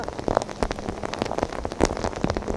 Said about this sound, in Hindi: और हमारा आदित्य तो अब शीर्षासन कर रहा है पूरा वर्षा में।